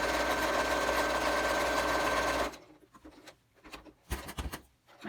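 Sewing machine back-stitching a fabric face mask, running in a steady close whir for a couple of seconds, then stopping, followed by light handling clicks and rustles.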